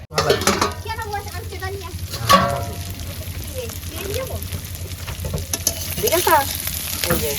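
Fish fries in a pan at a household in the Sundarbans, sizzling steadily and close by. Stirring and the clatter of a utensil against the pan sound over it, and people talk in the background throughout.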